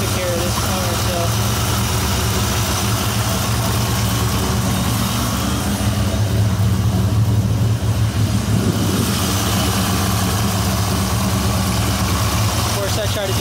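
A 1997 Dodge Viper with a TNT Motorsports custom exhaust idles through its warmup, giving a steady, unbroken, fairly loud low rumble that holds constant throughout.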